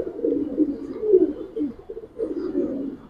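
Giribaz and coloured pigeons coo at a pigeon sale, several soft, throaty rolling coos in close succession, near and clear, with a brief pause before the last call.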